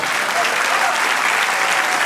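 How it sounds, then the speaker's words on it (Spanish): Church congregation applauding the Lord after a sermon, a loud, dense, steady burst of clapping that fills the space for a couple of seconds. "Dale otro aplauso al Señor."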